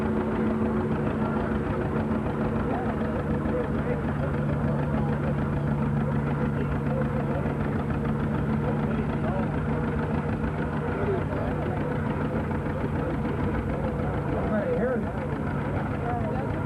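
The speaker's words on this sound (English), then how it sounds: "Here's the little tractor that's doing the pulling." A small old tractor engine chugs steadily at idle-like pace, a constant low rumble that holds the same level throughout, with faint voices in the background at an outdoor heritage show.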